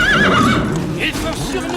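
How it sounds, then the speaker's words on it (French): Horses whinny in a tense action scene, a wavering neigh rising loud near the start while hooves and mixed film sound run underneath. "Allez, les chevaux!"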